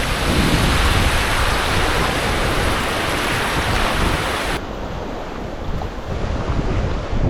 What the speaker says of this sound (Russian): такая вот, друзья, волна